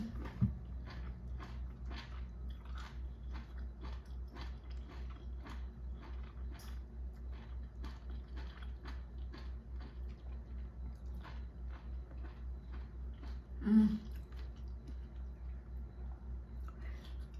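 Boiled shrimp dipped in sauce being chewed close to the mic, a quiet, steady run of soft rhythmic bites and mouth noises, with one brief louder knock near the end.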